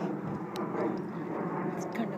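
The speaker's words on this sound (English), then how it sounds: "And an airplane." An airplane passes overhead on a cloudy day by an outdoor pool, a steady broadband roar that holds evenly throughout, with faint voices in the background.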